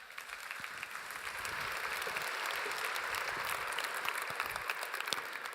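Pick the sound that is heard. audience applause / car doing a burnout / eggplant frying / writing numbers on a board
audience applause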